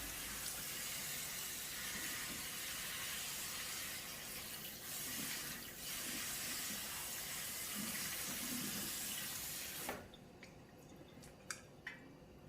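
Tap water runs steadily into a sink while rice is rinsed, a loud continuous splashing rush for about ten seconds, then the flow cuts off, leaving a few faint drips and light clinks.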